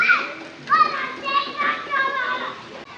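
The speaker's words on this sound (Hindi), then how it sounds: "बच्चे कितने ज़बरदस्त तरीके से खेल रहे हैं यहाँ पे गाइस" Children play outdoors in the rain at Bahria Town, their high, excited voices calling and chattering close by over a soft background wash.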